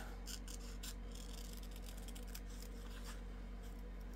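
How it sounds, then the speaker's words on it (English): Scissors fussy cutting a small piece of stamped cardstock, quick crisp snipping and rasping strokes in a close, busy run, quiet and with no talking. "We don't got to stamp it, we just got to fussy cut this bit of it, just one side of it."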